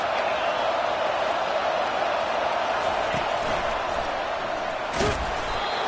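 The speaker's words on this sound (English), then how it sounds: "This crowd trying to make life miserable for this offense" A stadium crowd at a college football game against Cal keeps up a dense, steady roar, loud and unbroken, with a brief thump near the end.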